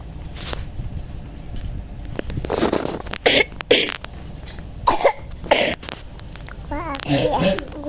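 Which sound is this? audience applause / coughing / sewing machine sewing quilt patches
coughing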